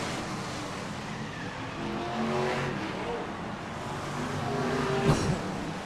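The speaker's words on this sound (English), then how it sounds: "Andy Smith comes roaring through as well." BriSCA F1 stock cars racing around an oval at the 1995 UK Open Weekend, engines droning steadily at a moderate distance with rising and falling pitch as the cars circuit, plus a brief sharper burst near the end.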